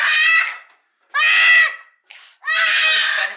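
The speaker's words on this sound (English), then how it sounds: "crazy man is yelling." A man yelling loudly indoors at home in three long, strained bursts separated by short silences, one brief squeal between the last two, close and harsh.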